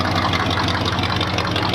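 Modified Volkswagen Golf R idling at a Caffeine & Machine car meet, a loud, deep, steady engine burble with a slightly lumpy pulse, up close and without talk.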